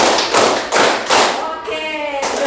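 In a classroom, a group performs the tepuk semangat chant, with loud rhythmic bursts of clapping and sung, chanted voices joining in toward the end.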